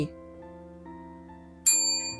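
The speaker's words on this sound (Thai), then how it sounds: "ขอกดกระดิ่งมาหนึ่งกึ้ม" A single bright bell ding rings out near the end and leaves a shimmering decay over soft, sustained background tones.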